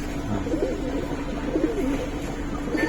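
Giribaz silver coloring pigeons coo in low, soft repeated phrases, a steady murmur of several birds close by with no talk.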